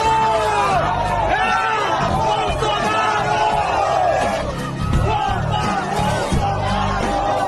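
A large rally crowd in Curitiba greets Jair Bolsonaro with loud, continuous rhythmic shouting and chanting, dense massed voices filling the whole stretch without pause.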